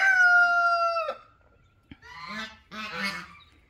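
A mother hen with her baby chicks gives a long, loud, steady call, then after a pause comes a stretch of busy, mixed clucking and chirping from the flock nearby.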